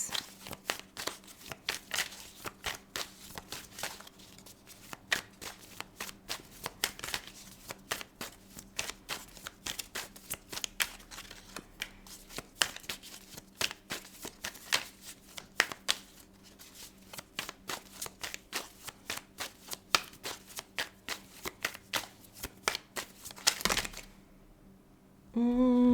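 Tarot cards being shuffled in a dense, continuous riffle of crisp papery flicks and slaps, close and steady for most of the stretch, then stopping abruptly near the end.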